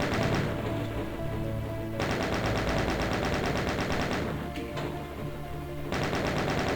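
Chain gun firing in the Doom mod NOVA II, a loud, continuous rapid-fire rattle with brief gaps where bursts restart, heard up close with no talk.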